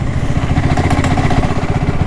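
A BSA Goldstar 650 single-cylinder engine runs rough in too high a gear, giving a loud, steady, close thudding beat with a slight uneven roughness and no talk.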